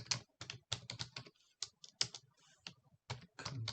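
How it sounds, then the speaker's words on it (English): Computer keyboard typing while entering data into a CRM record, with quick bursts of crisp, close key clicks separated by short pauses. "if I'm just going to type this in"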